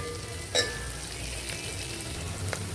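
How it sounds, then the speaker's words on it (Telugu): Oil sizzles and crackles steadily as curry leaves are tempered, with a few sharp pops and spatters standing out near the start and end. "కరివేపాకు వేసానండి. వేగాలి పోపు."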